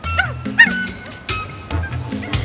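A dog gives a few sharp, high yelps and whimpering cries in a 1998 Beetleborgs Metallix film, the short bursts spaced unevenly over about two seconds, with other faint voices and sounds around them.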